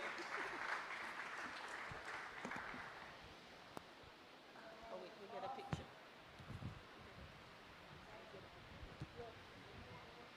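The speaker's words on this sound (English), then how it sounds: "And clap for all those who were brave enough, especially all our foreign guests." A dense wash of audience applause at the 2019 Haiti Tech Summit fills the first few seconds, then fades into a quieter room where a voice speaks and scattered sounds continue.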